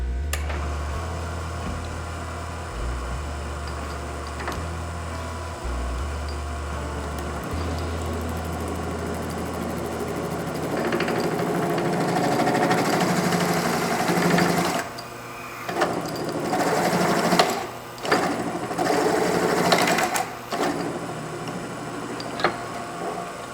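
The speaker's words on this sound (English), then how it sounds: "Alright, I found a 2-inch Forstner bit, so we'll see how piss poorly this goes." A 2-inch Forstner bit grinds into spinning scrap wood on a lathe, starting with a low pulsing hum and building into louder, rough cutting bursts with brief pauses in between.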